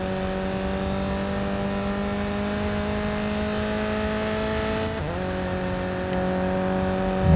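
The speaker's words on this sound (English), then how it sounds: "I like the way this car sounds." A steady Alfa Romeo racing car engine hum in Real Racing 3 with layered tones, fairly soft and even, briefly dipping in pitch midway before revving back up.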